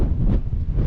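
Gusty wind buffets the microphone near the LA Aqueduct on a bike route, a loud, low, steady roar with surges and no other sound.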